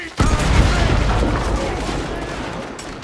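Dense, continuous gunfire from a shootout in the video game Red Dead Redemption 2, with rapid overlapping shots and booms forming a loud, sustained barrage that starts abruptly and rolls on without a break.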